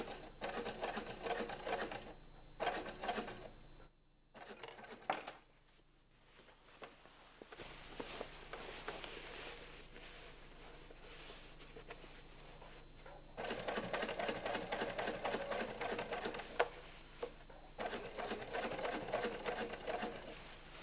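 A sewing machine topstitches the side seams of jeans in repeated rapid bursts, close and clattering, with a quiet gap and pauses between runs and no talk.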